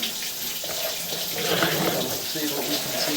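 Water rushes steadily through a deep sewer main, a continuous hissing, gurgling flow heard close and unbroken with no voices.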